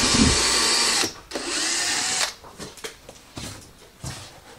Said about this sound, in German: Da wird jetzt gerade vorgebohrt